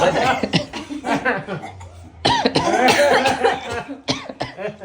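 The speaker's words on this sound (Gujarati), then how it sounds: "બધા ઉધરસ ખાઈ છે." Several people cough deliberately in quick bursts, mixed with chuckles and laughter, close by and fairly loud, with talking between the coughs.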